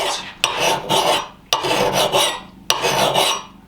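A coarse cut file rasps across a Rinaldi axe head in three long, rough strokes, each starting with a sharp scrape, close and loud with no talk.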